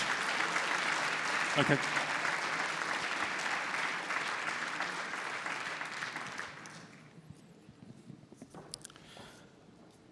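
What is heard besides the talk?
audience applause for award winners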